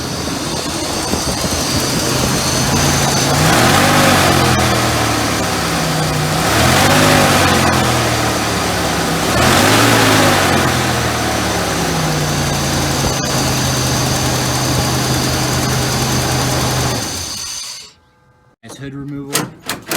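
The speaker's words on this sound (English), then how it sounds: "this is going to be a startup video to show you that the engine is running" Jeep Grand Cherokee WK/WH with the 4.7L engine running at idle, showing 131,337 miles, a steady close engine drone with a few swells in revs and a talking voice over it before a sudden cutoff.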